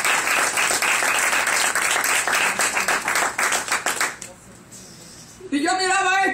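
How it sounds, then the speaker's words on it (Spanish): Congregation at a church service applauds, a dense burst of clapping that thins out near the end before a voice breaks in. "Les tengo un aplauso a ustedes por ser tan maravillosos."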